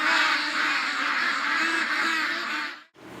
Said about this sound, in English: Oh, Doug, it's a crow.